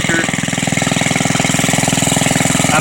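A 1948 Briggs and Stratton WMB small engine runs up close and loud, with a steady, rapid, even putter of firing pulses that holds throughout.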